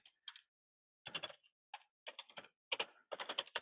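Computer keyboard typing while filling in a contract record: short bursts of quick, crisp key clicks separated by brief pauses, close and fairly quiet, with no talk.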